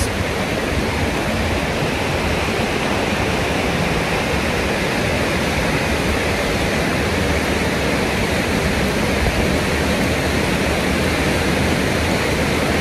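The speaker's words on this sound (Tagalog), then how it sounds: "That's the falls." The waterfall at the end of Heart Creek Trail, in Kananaskis near Canmore, roars as a steady, dense rush of falling water. It stays loud and unbroken throughout, with no voices heard.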